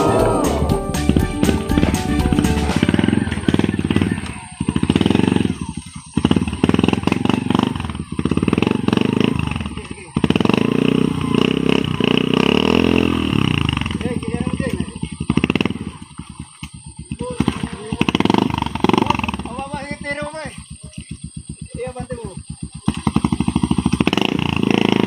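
A motorcycle engine runs aboard a floating raft, a loud continuous drone with rhythmic clattering and knocking throughout, while people talk over it.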